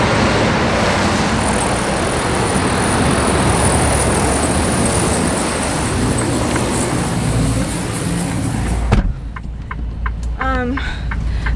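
A truck rolls slowly along a snowy winter road at about 15 miles an hour, with a loud, steady roadway rumble and hiss that cuts off abruptly near the end, followed by a few faint sounds.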